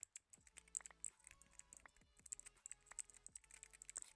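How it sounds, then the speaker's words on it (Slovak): Rapid, crisp clicking keystrokes on a mini keyboard for ASMR, close and fairly quiet, in irregular bursts with short pauses. "Tu ona je tá mini klávesnica ASMR."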